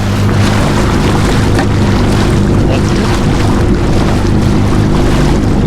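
Yamaha VX Cruiser HO jet ski running on a Wisconsin lake, a loud, steady close-up engine drone with water and wind rush, a brief voice speaking over it.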